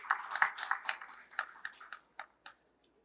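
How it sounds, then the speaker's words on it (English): Audience applause at a healthcare talk: a scattered round of clapping from a modest crowd, dense at first, then thinning to a few last isolated claps that fade out within about three seconds. "please round of applause again for the Pankaj Mittal"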